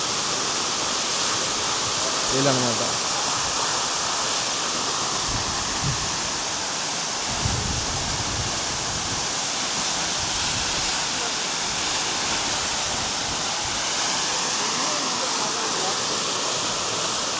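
Devkund waterfall in Maharashtra roars as a continuous, loud broadband rush of falling water heard close by, with a few faint voices briefly breaking through the steady torrent.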